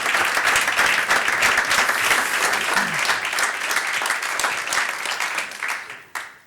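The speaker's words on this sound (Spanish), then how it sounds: "Un fuerte aplauso para él." An audience at a philanthropy forum applauds a speaker: dense, loud, sustained clapping that holds steady, then thins and fades out near the end.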